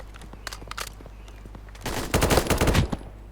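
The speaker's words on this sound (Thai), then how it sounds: "เสียงปืนวะ" Gunfire in the Roblox game BlackHawk Rescue Mission 5: a few scattered shots first, then a loud, dense burst of rapid automatic fire that rattles for about a second before cutting off.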